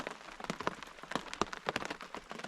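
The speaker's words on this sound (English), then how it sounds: "and the rain slowed way down." Steady rain patters on a hard surface at a campsite, slowing after a hail storm, with dense irregular drops and no voices, a moderate, even downpour close by.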